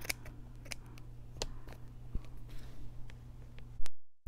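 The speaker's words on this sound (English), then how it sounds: "now I just need to cut the edge here" Scissors snip the edge of a fabric piece for embroidery, giving a few sharp, close clicks and cuts spread over a quiet background, ending in one louder snip.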